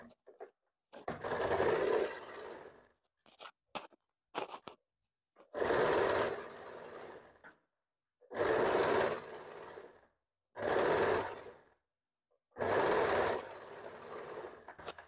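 A sewing machine stitches over a fold in a blouse, running in several short, close bursts of rapid whirring separated by silent pauses, with no talk.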